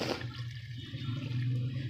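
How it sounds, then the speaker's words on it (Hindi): Water pours steadily into a cooking pot for chicken and potato curry, a continuous close gushing and splashing with a low churning rumble that holds at fairly even loudness throughout. "बाकी इसके अंदर अब पानी जाएगा।"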